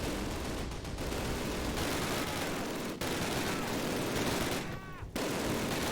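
Dense, continuous gunfire from MG42 machine guns and an anti-aircraft gun in the 2003 Call of Duty, a loud, chaotic wall of shots that barely lets up, with only brief dips before resuming.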